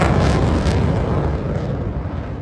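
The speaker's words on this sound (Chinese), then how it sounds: "你听那个空气爆炸的声音上瘾" A military jet roars past at the Zhuhai airshow, a loud, broad rushing thunder that is strongest at first and slowly fades, with no voices.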